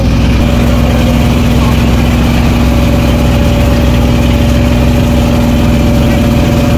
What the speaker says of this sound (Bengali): আমরা ট্রলারের মধ্যে আছি